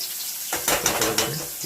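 Chopped bitter gourd frying in a pan, a steady broadband sizzle that starts abruptly after a brief quiet and continues with stirring, fairly close and moderately loud.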